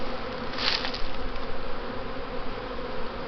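Honey bees drawing out comb on new foundation inside an open hive, a dense, steady buzzing hum close by with one louder wingbeat passing near.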